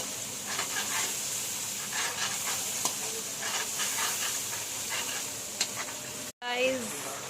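Masala mixture sautéing in oil, a constant sizzle with repeated stirring scrapes and clacks of a spoon against the pan, close up, then a brief dropout near the end followed by a short voice.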